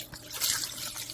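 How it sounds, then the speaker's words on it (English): Cold water poured over boiled lobster tails in a pot, a short soft splash and trickle of liquid without speech. "Then pour cold water to stop them from continued cooking."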